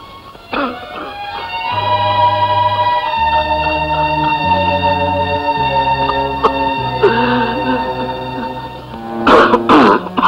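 An old man coughs, with a rough burst near the start and a cluster of harsh coughs at the end, heard over steady background music.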